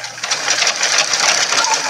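Sewing machine stitching a fabric makeup pouch, a steady close mechanical whir running continuously with a fast even rhythm and no pauses.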